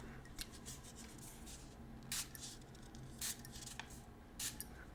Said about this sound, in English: It's good when you first get the fragrance to spray it at least 10 times